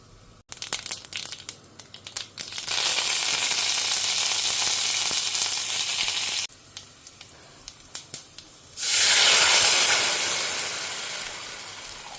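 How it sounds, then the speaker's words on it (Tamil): Cumin seeds fry in hot oil for a South Indian home tempering. Sharp crackles and pops come first, then a loud, steady sizzle that briefly eases before it surges again, close by and with no talk. "நல்லா ஜீரகம்லாம் படப்படான்னு பொரியட்டும்."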